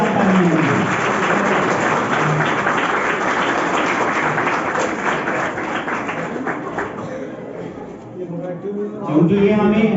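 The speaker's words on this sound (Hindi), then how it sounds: "उनके लिए जोरदार तालियां।" An audience at a Veer Baal Diwas school function at National Academy High School Jindrah gives sustained, vigorous applause that thins out near the end before a voice comes in briefly.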